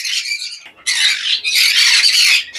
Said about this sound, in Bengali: এখানে দেখতে পাচ্ছেন পাইনঅ্যাপেল কুনুর রয়েছে 1 পেয়ার